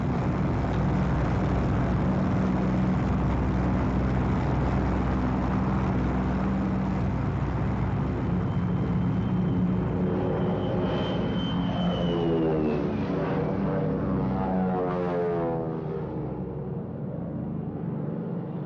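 A twin-engine P-38 fighter aircraft roars past loud and close with a dense, sustained engine drone, the pitch sliding and the sound thinning as it moves away, with no talk.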